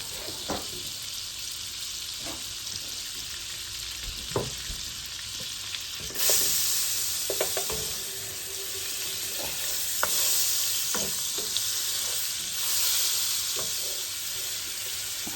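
Butter sizzling in a hot pan for penne pasta with smoky sausage, a steady close hiss that grows louder partway through, with scattered utensil taps and scrapes.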